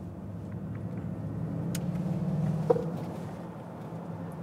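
A Mercedes EQE SUV electric car plays its artificial Roaring Pulse drive sound, a low, steady humming rumble that swells slightly under acceleration, with a faint click near the middle and no speech.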